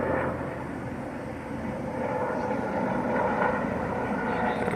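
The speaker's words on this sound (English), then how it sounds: "Looks like a little medical helicopter." A steady broadband engine drone from a small medical helicopter passing overhead, fairly loud and continuous with a slight swell toward the end, no talk.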